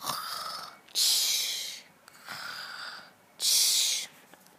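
A giant in a fairy-tale narration snores in loud, rasping inhale-and-exhale cycles, two full rounds, with nobody speaking over them.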